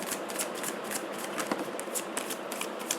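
Tarot cards shuffled in quick, crisp riffling bursts, close and steady for several seconds with no voice over them.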